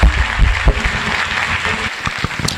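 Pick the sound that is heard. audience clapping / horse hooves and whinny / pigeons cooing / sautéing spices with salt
audience clapping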